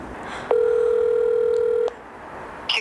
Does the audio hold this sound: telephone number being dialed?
yes